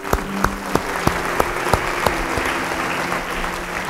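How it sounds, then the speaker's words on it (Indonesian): A church audience claps in a quick, regular rhythm over a sustained musical tone. The sharp claps are distinct at first, then thin out and fade into a steady background hum. "Tepuk tangan yang bagus."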